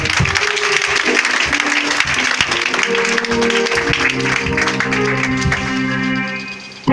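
A church congregation applauds and cheers, sustained loud clapping filling the room while a music chord holds underneath and voices call out over it.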